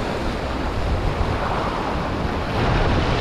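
Sea waves at high tide wash against shoreline rocks in a continuous rushing roar, loud and close, with no voices.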